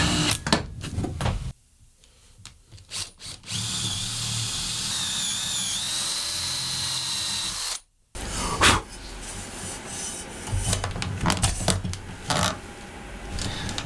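A 12.7mm Forstner bit bores a hole through a workpiece: a whirring, grinding drill sound in several bursts with short pauses between, close and fairly quiet.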